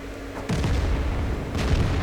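A tank's main gun fires in a tank video game featuring the Object 261: a sudden loud boom at half a second, a second blast near 1.6 seconds, with steady low engine rumble throughout.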